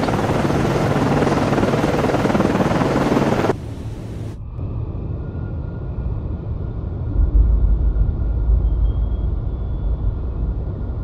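ASW helicopter from the Cold Waters submarine game, flying off the USS Nicholas FFG-47 Perry-class frigate: a loud broadband rotor and engine roar that cuts out abruptly, then a lower muffled rumble with a faint hum, no talking.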